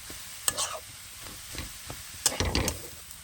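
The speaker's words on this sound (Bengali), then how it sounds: "আমি কিন্তু খসি দিয়ে ভালো করে মশলাটা মিশিয়ে নিয়েছি" Cauliflower masala is worked around a pan with a spatula, giving quiet scraping and clattering strokes in two short bursts over a soft background sizzle.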